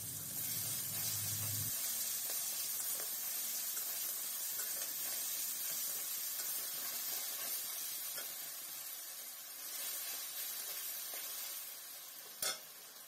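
Ginger garlic paste sizzles in a pan with softened tomato during preparation of a Bengali echor chingri dish, a steady broadband hiss of frying throughout, with a brief stirring clink near the end and no talking.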